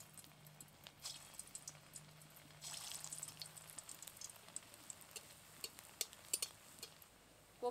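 Banana flower kofta balls fry in hot oil in a Bengali village kitchen, a soft steady sizzle with scattered pops and light clinks of utensils, fairly quiet and close, with no talking.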